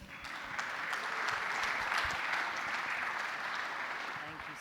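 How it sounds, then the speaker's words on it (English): A conference audience at a Dubai creator event claps steadily for an arriving speaker, a dense, even wash of applause that holds for several seconds and tapers slightly at the end. "So big round of applause for Amrita."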